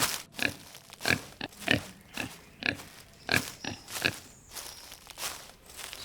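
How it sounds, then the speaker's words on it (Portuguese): A Visayan warty pig forages in a Philippine forest, rooting through the soil for roots and tubers. Dry leaves rustle and crunch in a steady rhythm of bursts, with low grunts mixed in, close by and with no talking. "O farfalhar de folhas secas, seguido por um grunhido baixo."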